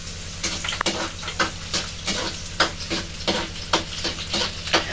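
Garlic and onion sizzle in a hot pan as a utensil stirs them, giving rhythmic scraping strokes about twice a second over a steady frying hiss, close and fairly loud with no talking.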